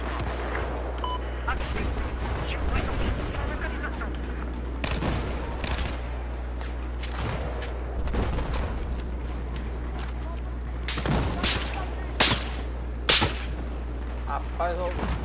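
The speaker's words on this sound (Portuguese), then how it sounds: "o sniper cantando na orelha" Sharp sniper rifle cracks and whizzing shots in Battlefield 4 on the Zavod 311 map snap past at irregular intervals, several loud, over steady battle noise and a man's speech.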